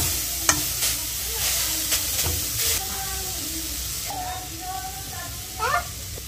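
Grated carrots frying in ghee with raisins in a pan, a steady sizzle and hiss with scraping stirs and clinks of the spoon, close up, while a person talks over it.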